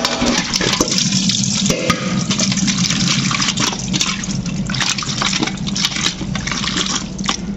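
Raw duck meat being rinsed by hand in a basin of water, with continuous close sloshing and splashing plus occasional light clinks, no talking.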